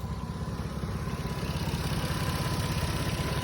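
A vehicle engine idling during an HVAC inspection, a steady close low rumble with an even pulsing throb that continues without a break.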